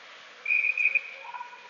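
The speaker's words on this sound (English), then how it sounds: "Play is whistled down." A referee's whistle blows once in an ice hockey game between the Lloydminster PWM Steelers and Edmonton Pandas, a steady shrill tone lasting about half a second, fairly clear over faint arena noise, followed by a softer trailing tone.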